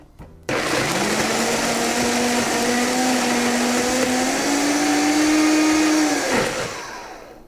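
A blender grinds Italian herbs, spices and smoked paprika with hot water, a loud steady motor whine that runs for several seconds, rises slightly in pitch, then cuts off and winds down.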